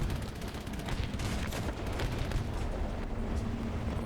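Rumbling, crackling battle gunfire and distant cannon blasts in the War Thunder tank game, a dense ongoing barrage at fairly low level throughout.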